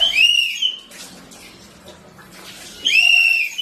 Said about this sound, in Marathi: मी तुम्हाला इथं मुद्दा म्हणून शिटीचा आवाज ऐकवला